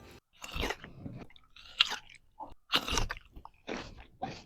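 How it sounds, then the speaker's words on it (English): Crisp, crunchy chewing of cotton candy grapes up close, several bursts of crunching bites with short pauses between, no talking. "they actually taste like cotton candy when you eat it, and they're so crunchy"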